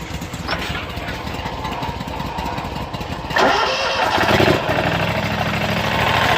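A Kawasaki motorcycle engine cranks and catches, then settles into a steady, loud, close rumbling idle that keeps running to the end.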